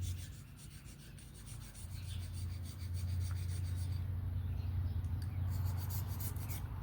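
A camp oven is scrubbed clean before cooking gluten-free pizza over a fire, a steady close rasping and rubbing that grows slightly louder midway and carries on without speech.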